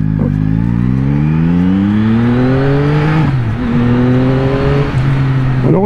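A 2021 Yamaha MT-09 SP motorcycle on its stock exhaust accelerating hard, the engine note climbing through the revs, then dipping briefly at gear changes before climbing again, loud and close with no speech.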